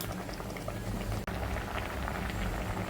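Water in a pot at a rolling boil while vegetables such as cabbage blanch, bubbling loudly and steadily, with one brief dropout in the middle and no voices.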